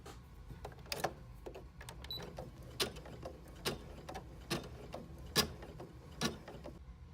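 An embroidery machine sews a satin outline stitch on an appliqué, producing a steady, rhythmic mechanical ticking and clicking with regular sharper taps, fairly quiet and with no voices.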